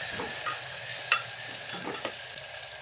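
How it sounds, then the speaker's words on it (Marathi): Sliced onion and tomato sautéing in a pan for masala khichdi, a steady close sizzle with a few soft stirring scrapes and one brief spoon clink, no voices. "कांदा लाल होईपर्यंत परतून घ्यायचं आहे"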